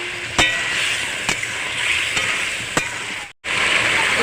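Cauliflower and potato fry in spice masala with a loud, continuous sizzle and hiss, broken by a few sharp clacks of stirring and a brief dropout near the end.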